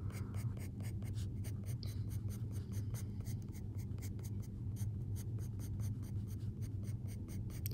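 A graphite pencil, switching to a 4B, strokes textured lines onto paper in quick regular scratches, a close, steady rhythm of short rasping marks with no voices.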